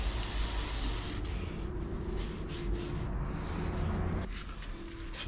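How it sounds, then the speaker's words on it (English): Throttle body cleaner sprays onto grubby connector pins in a steady, close hiss that cuts off after about a second, followed by fainter rubbing and wiping noises. "Bit of throttle body cleaner on it."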